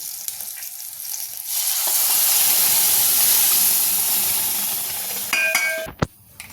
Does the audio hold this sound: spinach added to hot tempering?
yes